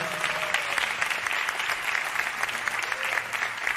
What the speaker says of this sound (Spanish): para que también pida un fuerte aplauso